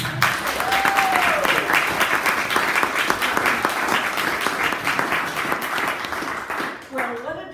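Warm audience applause greets a speaker, a steady wash of many hands clapping at an evening talk, fading slightly before a voice begins at the end.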